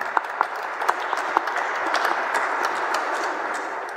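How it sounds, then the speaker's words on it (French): Sustained applause for the helpers at a Chrism Mass fills a church, dense and steady throughout with a few sharper claps standing out early on. "Je pense qu'on peut applaudir toutes ces personnes pour nous avoir aidés à prier ensemble."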